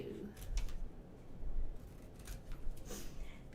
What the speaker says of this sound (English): So I'm going to go ahead and cut this out again.